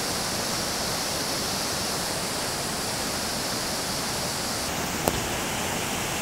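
The Mai Khola river in Ilam, Nepal, swollen and flooding after heavy overnight rain, gives a steady, loud, unbroken roar of rushing water, with one brief sharp click partway through.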